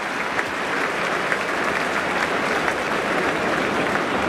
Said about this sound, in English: you hear the applause from the Richmond fans at the city end of the MCG